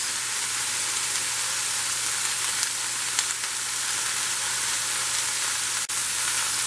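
Bell peppers sizzle steadily in a hot frying pan, left unstirred to brown, a constant frying hiss with occasional faint pops and no talking.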